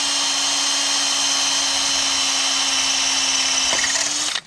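A power drill fitted with a carbide bit bores steadily into the metal harmonic balancer of a 1961 Pontiac Laurentian, giving a continuous loud high whine that holds for about four seconds before cutting off.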